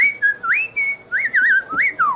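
A human voice whistles in a series of short rising and warbling notes, imitating a penguin's calls, clear and close with brief gaps between phrases.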